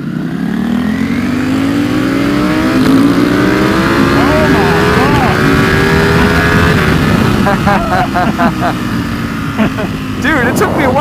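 A Ducati XDiavel motorcycle engine revs hard while riding, its pitch climbing and falling through repeated throttle pulls under steady wind roar, with voices talking over it.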